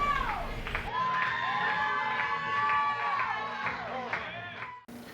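A wrestling crowd at a live show cheers and shouts loudly for the winning tag team during a dance party in the ring, a dense wash of voices with whoops and music-like tones running throughout before a sudden cut.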